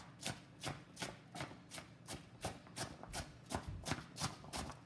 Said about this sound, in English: we're going to take our big chopping blade, we're going to put it near the apples, put our hand on the end, and we're just going to just start chopping